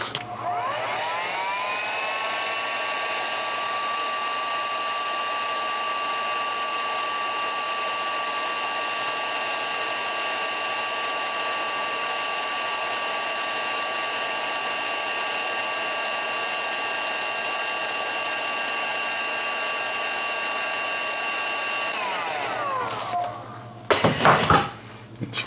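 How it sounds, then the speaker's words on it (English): An old heat gun blows steadily with a whining fan tone and rushing air for over twenty seconds, close and loud, while shrinking tubing on wires. It then winds down into a few clattering handling noises. "Got my old school heat gun my friend gave me."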